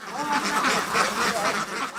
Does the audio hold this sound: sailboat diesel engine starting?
no